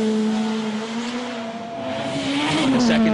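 Yellow Proton rally car driving through a snowy stage of a World Rally Championship event in Sweden, its engine note steady and loud, rising in pitch as it revs toward the end, with no talk.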